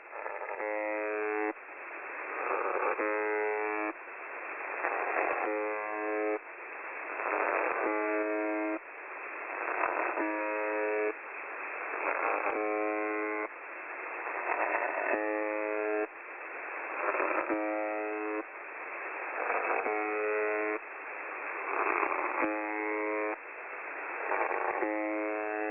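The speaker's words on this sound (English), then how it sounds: "someone appeared to be sending letters on the buzzer's transmissions" Shortwave buzzer station transmission: a harsh, narrow-band buzz tone repeating in steady pulses about every second or two with brief gaps, flat and radio-filtered, continuing on its own for the whole stretch.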